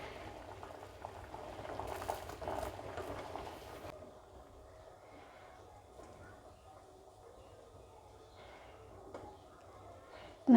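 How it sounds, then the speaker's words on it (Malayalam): Pasta simmering in a pot of water, a steady bubbling hiss that swells louder early on, then settles into a softer continuous boil close by. "ഇതിൽ കിടന്ന് കുറച്ച് നേരം ഒന്ന് നന്നായി ഒന്ന് തിളച്ച് വെന്ത് കിട്ടട്ടെ കേട്ടോ"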